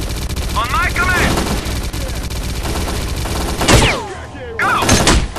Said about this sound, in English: An MG is covering the ground.